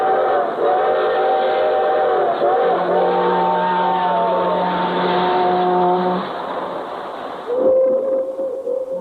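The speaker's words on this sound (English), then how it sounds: "Hear 'em, the whistles of the freight trains?" Freight train whistles sound in long, loud, steady blasts, several overlapping chords held for a few seconds, then a final separate whistle tone after a short break, with rumbling rail noise underneath.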